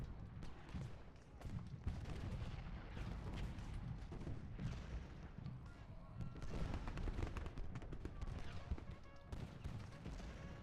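Rifle and artillery fire in the Civil War strategy game Ultimate General: Gettysburg during the attack on Cemetery Hill: dense, overlapping crackling volleys with deeper booms, continuous and moderately loud throughout.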